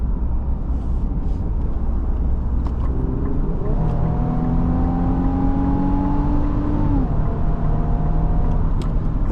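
A 2025 Infiniti QX80 SUV accelerates hard, its engine note rising in steady tones over a constant loud hum of road and cabin noise, the pitch climbing then holding before easing back near the end.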